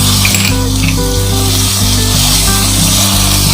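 Whole black peppercorns hit hot oil in a pan while chicken tikka macaroni cooks, producing a loud, steady, close sizzle with no voices and a low hum underneath.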